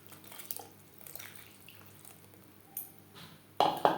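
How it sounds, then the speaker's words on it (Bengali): Water poured into a simmering pot of Bengali curry pakora kadhi made with yogurt and gram flour, a soft liquid splash and squish near the end after quiet low kitchen hum. "আর একটু জল অ্যাড করলাম।"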